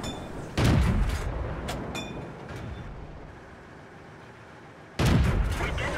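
Tank cannon shots in World of Tanks, aimed at an ST-I heavy tank: two loud, deep booms, one near the start and one near the end, each fading into a long rumbling tail.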